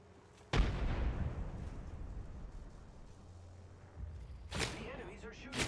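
A frag grenade detonates in a video game with one loud, sudden boom that decays into a long rumbling tail, followed later by fainter gunfire bursts and crackling noise.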